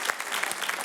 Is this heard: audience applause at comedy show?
yes